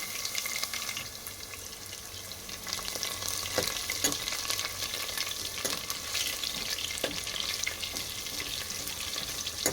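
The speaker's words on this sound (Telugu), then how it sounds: "వెల్లుల్లిపాయని ఇలా ఫ్రై చేసుకోవాలి" Crushed garlic frying in hot oil with mustard seeds, dried red chillies and cumin, giving a steady, dense sizzle with occasional faint pops and spoon scrapes, close and continuous throughout.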